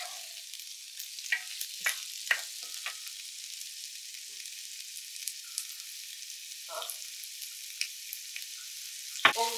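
Bolognese tomato sauce with carrots cooks in a pan, giving faint, quiet bubbling with scattered soft pops and little crackles spread unevenly over the stretch, heard close with no talking.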